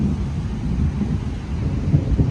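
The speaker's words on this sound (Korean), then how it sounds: "이렇게 천둥번개도 치고 있습니다." Thunder rumbles low and continuous during a rainstorm in a park, a broad steady roar with wind and rain noise throughout.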